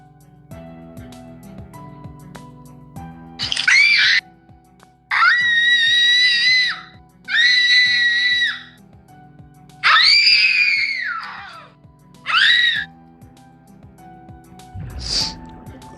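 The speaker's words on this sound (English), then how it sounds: "Mira screams fill my ears just before they're flooded with water." Woman's screams in a dramatic story scene as water floods in, several loud drawn-out shrieks one after another with short gaps, ending in a sudden gurgling splash.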